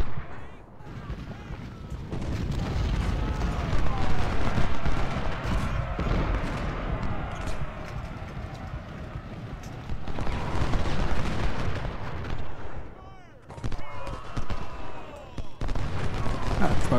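Cannon and artillery fire from the Civil War strategy game Ultimate General: Civil War, a dense, continuous battle roar of booming shots and crackling volleys that swells and dips, with a narrator speaking over it.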